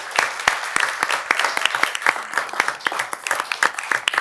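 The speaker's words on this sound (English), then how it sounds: "Just give them a big round of applause, please." City council meeting audience applauding volunteers, a modest group clapping with distinct individual claps in an irregular, lively rhythm, fairly close.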